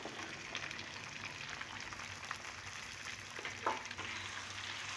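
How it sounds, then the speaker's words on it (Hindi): Potatoes fry in a pan with browned cumin, giving a steady soft sizzle and crackle throughout with an occasional faint clink, fairly quiet and close. "आलू डाल के हम एक बार आलू को अच्छे से भून लेंगे।"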